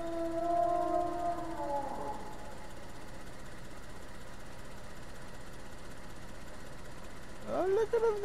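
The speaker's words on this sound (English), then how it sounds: "Man, the noisy wolves, I love it." Wolves howl in the survival video game DayZ: a long, rising and falling howl for about two seconds, then steady background hum, and a second howl starts near the end.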